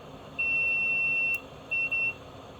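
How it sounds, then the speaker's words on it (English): A continuity tester gives two clear electronic beeps while probing a new tail light that was dead on arrival: a longer steady tone, a short pause, then a shorter tone, loud and close with no talking. "let's whack continuity tester across this guy"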